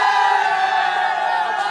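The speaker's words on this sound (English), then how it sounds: "So look at the shouting chants, all in the middle of this arterial road." RCB cricket fans packed on an arterial road shout a sustained, droning chant in unison, a steady wall of voices heard from close by.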